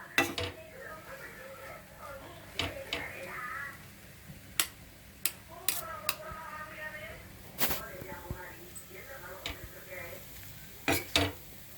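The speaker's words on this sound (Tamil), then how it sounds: "இந்தமாரி நல்லா குருமா மிக்ஸ் பண்ண உடனே நல்லா ஒரு 10 நிமிஷம் இதை நம்ம நல்லா நல்லா கிண்டி விட்டு நல்லா கிளறி விட்டு வேக விடணும்" A spatula stirs and chops vegetable kurma with chapathi pieces in a pan for kothu chapathi, sharp clacking metal hits scattered irregularly amid soft scraping, with a voice talking through much of it.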